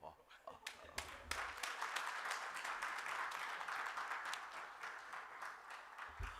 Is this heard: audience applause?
yes